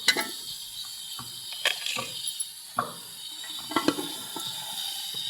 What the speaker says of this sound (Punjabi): ਹਲਕਾ ਜਿਹਾ ਪਾਣੀ ਲਗਾਤਾ ਵਾ ਕਿ ਆਲੂ ਗਲ ਜਾਣਗੇ